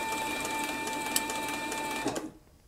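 A Cowboy CB4500 leather sewing machine stitching a dog collar at high speed, a steady fast mechanical whir with a constant tone that runs continuously, then stops abruptly near the end.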